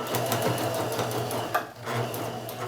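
A sewing machine running steadily while stitching a curved seam on pinned fabric pieces, with a close, even mechanical whir and a brief pause near the end.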